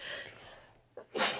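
A single sudden sneeze bursts out near the end, loud and close, after a stretch of quiet room sound with faint talk at the start.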